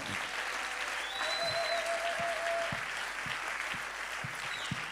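A church congregation applauds steadily throughout, a dense wash of clapping from many hands that swells slightly mid-way and keeps going, with a faint tone drifting through.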